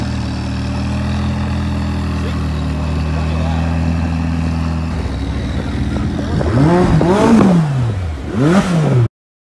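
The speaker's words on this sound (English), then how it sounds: "This one has a nicer exhaust." McLaren 570S with an upgraded aftermarket-style exhaust, a steady loud engine drone that builds into two sharp revving blips near the end, each rising and falling in pitch, with a voice over the top.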